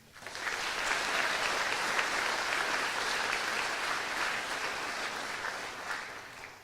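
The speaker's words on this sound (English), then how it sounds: "Let's give them one more round of applause for their dedication to the 4-H program." Sustained applause from an audience at the Arkansas 4-H State O-Rama awards ceremony, a dense steady wash of clapping that swells quickly, holds evenly and begins to thin near the end.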